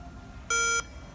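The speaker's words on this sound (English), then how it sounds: "And it's beeping at you because there's flags being set and flags being tripped" A Snap-on Zeus intelligent scan tool gives one short, clear electronic beep as trigger flags trip. The steady, bright tone lasts about a third of a second and sounds on its own against quiet background hiss.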